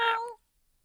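A cat gives one short, clear meow, close and fairly loud, followed by silence.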